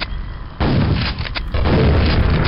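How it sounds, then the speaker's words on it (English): A grenade explodes in the VR shooter Quake VR, two heavy booming blasts in quick succession, loud and close, each leaving a sustained rumbling roar. "Grenade got me there."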